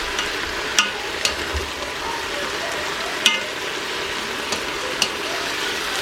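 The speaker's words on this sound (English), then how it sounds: "Onions are nice, translucent, and sauteed." Onions and peppers sauté in a Ninja Foodi multi-cooker pot, giving a steady soft sizzle with a few sharp clicks and taps of a utensil folding the vegetables. No one talks.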